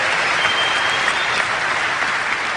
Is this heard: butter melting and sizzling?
no